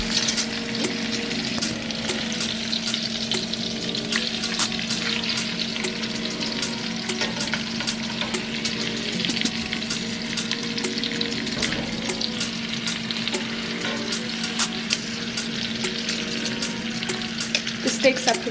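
Steak frying on its second side in a pot during a garlic butter steak dinner, a steady close sizzle with crackling pops running continuously without talk.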